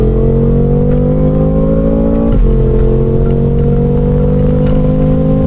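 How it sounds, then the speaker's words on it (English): A modified BMW F10 M5 pulling hard in a drag run, its engine a loud, steady, rising drone with a brief dip in pitch like a gear change midway, close and continuous. "Now the last thing to do was to drag the car and let the results speak for itself."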